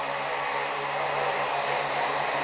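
Quadcopter drone motors spin up in flight, producing a steady, even whirring rush with a low hum beneath, constant in level and close by, with no voices.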